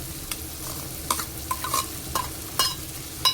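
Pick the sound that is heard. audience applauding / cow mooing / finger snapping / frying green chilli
frying green chilli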